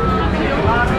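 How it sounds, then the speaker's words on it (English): A crowd at the San Gennaro street feast in Little Italy, New York, makes a steady babble of many voices mingling at close range, with nearby talk rising out of the hubbub. "You can see the crowd over here"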